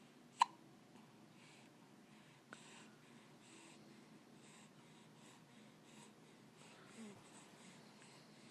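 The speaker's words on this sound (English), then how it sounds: "Make my hiccups go away." In a quiet room a person hiccups: one sharp, clear hiccup near the start, then a fainter one a couple of seconds later and a soft third one near the end, with light breathing between.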